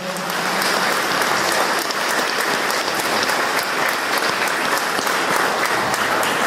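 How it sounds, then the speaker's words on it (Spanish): Audience applause inside the legislature chamber, a dense, even wash of many people clapping continuously for several seconds at steady loudness, with a rain-like texture. "para el que pide un aplauso también para Alberto."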